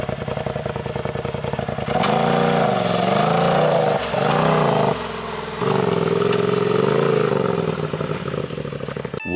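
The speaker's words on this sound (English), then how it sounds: "I wanted to get some flybys for you guys on this exhaust" Polaris RZR Turbo S side-by-side with a turbo straight-pipe exhaust making flybys, its engine droning loudly and rising and falling in pitch as it accelerates and passes close by, with clattering underneath.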